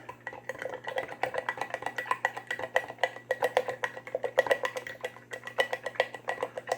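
A spoon stirs blue milk tinted with food colouring, a fast rhythmic series of light clinks and scrapes against the container, close and fairly quiet, no voices over it.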